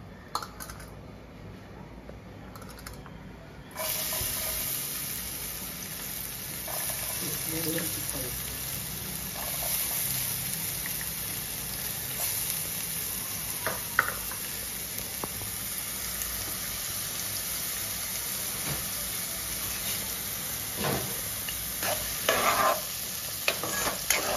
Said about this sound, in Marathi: तेल तापलं की आपण त्याच्यात कांदा टाकायचा.